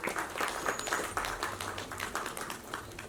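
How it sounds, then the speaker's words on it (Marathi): Dense, continuous clapping from an audience at a Marathi film trailer launch event, moderately loud and steady for a few seconds with little talk. "जोरदार टाळ्या झाल्या पाहिजे"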